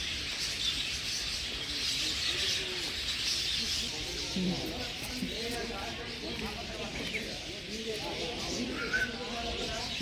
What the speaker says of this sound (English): the chirping of the birds here is filling the whole atmosphere